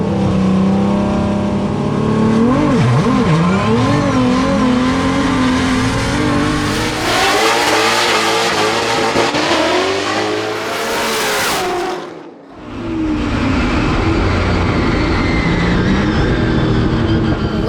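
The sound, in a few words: drift cars launching in a drag race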